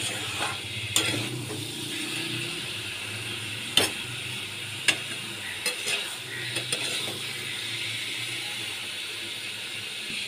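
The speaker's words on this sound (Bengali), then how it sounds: "চানা মশলা দিয়ে আমি ভালো করে কষিয়ে নিচ্ছি" Cauliflower and potato pieces fry with chana masala in a pan for an egg curry, a steady close sizzle under scattered spatula scrapes and sharp clicks against the pan, with no talking.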